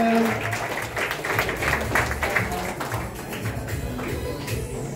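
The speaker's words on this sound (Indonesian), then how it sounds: "Tepuk tangan dong Bapak Ibu sekalian." Scattered audience clapping at a Bank Mandiri 25th anniversary ceremony, moderately loud and uneven, with voices talking over it throughout.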